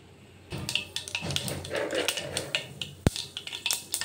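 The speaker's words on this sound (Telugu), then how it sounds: "బాండి పెట్టేసుకొని పోపు గింజలు వేసేసుకోవాలండి" Tempering seeds for upma hit a hot kadai, setting off rapid crackling and sizzling pops, with a sharp metallic clink of a utensil against the pan partway through.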